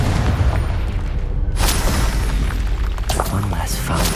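A Confringo blast spell goes off in Hogwarts Legacy during a fight with a hulking brute, a loud booming burst midway through, thick with rumbling low end and a spray of crackling debris after, under a constant dense wash of battle noise.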